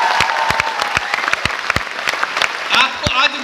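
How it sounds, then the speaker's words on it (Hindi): Applause from an audience at a Smart Value sales training event, dense clapping that fills the room with a few sharp claps standing out and some voices rising near the end. "उनके लिए एक जोरदार तालियां होना चाहिए।"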